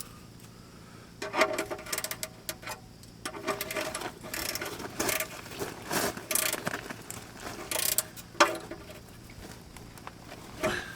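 A ratchet tightens an oil pan bolt on a 1975 GMC C6000 truck, with bursts of rapid, close clicking in quick strokes and short pauses between them.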